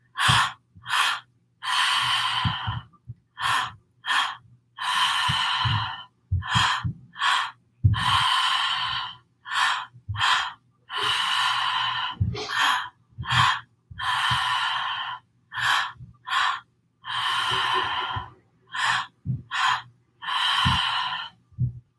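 Forceful rhythmic pranayama breaths, sharp exhales and inhales repeating in quick bursts with brief pauses, close and loud, no talking.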